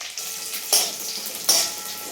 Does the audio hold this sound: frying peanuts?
yes